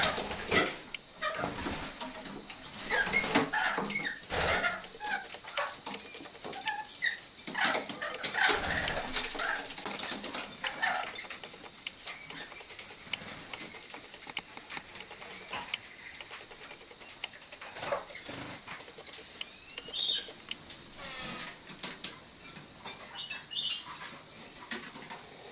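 Splendid parakeets flit between cages in a bird aviary, soft rapid wingbeats and rustling patter coming in bursts amid steady background noise, with faint chirps and no talking.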